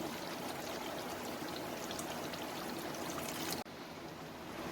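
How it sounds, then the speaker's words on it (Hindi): Lemon juice poured into a creamy chicken malai handi gives a steady, close liquid trickle that runs for about three and a half seconds, then cuts off abruptly. "अब इसी के साथ मैं 2 टेबल स्पून इसमें लेमन जूस डालूंगी"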